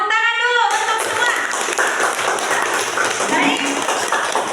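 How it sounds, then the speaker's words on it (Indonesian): A classroom of students claps together in an Indonesian school, a brief voice leading into a dense burst of hand clapping that carries on steadily. "tepuk tangan dulu untuk semua"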